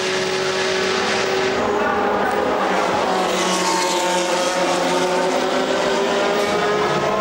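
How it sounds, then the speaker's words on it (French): Race cars battle at Monza, an SR21 against a Ferrari 430 GT2 in a GT race, their engines a loud, sustained high-revving roar that stays steady and close throughout. "Bagarre derrière entre Zapata et Gianmaria pour la 4e place, la SR21 face à la 430 GT2 Ferrari."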